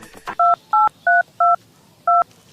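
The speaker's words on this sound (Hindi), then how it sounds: "तेरा चौधरी लिए फोन मिलाऊं" Five distinct telephone keypad tones, each a short steady beep of two blended pitches, sounding one after another at a quick, slightly uneven pace and close by, with no one speaking.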